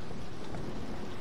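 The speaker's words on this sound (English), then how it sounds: "Oh, it's so loud outside. It's raining." Thunder and rain in the Roblox horror game Doors, a steady low rumble with a broad wash of rainfall filling the whole moment, loud and continuous with no speech.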